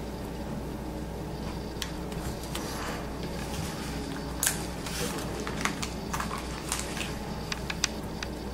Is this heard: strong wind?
no